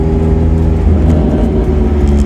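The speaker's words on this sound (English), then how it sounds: "You can hear the exhaust. Now I know it's rattling against that bar" A Ginetta G40 engine idles loudly up close on a rolling road, with a low throbbing exhaust and a buzzing metallic rattle from the exhaust striking a bar.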